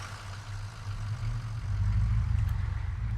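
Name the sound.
vehicle engine idling in video game Arma 3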